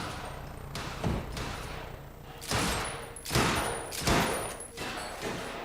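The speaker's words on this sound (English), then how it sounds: "Someone's shooting." Gunfire in the video game Quantum Break breaks out as several loud, sharp bursts and single reports spaced unevenly across the stretch. Each hit is followed by a short fading tail, and no voices are present.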